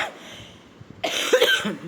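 A person coughs, a short cluster of harsh bursts in the second half, loud and close after a quieter stretch of room noise.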